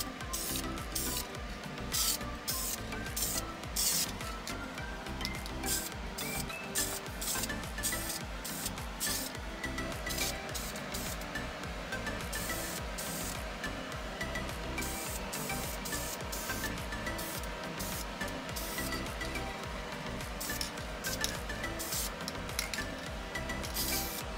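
Spray paint hissing onto a vintage 1970s RV camper during a DIY renovation, a long run of close, steady spraying with short rhythmic bursts and pauses, no talking.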